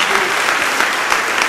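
Congregation applause in a church service, a dense steady burst of clapping from many hands filling the room, with no other sound standing out.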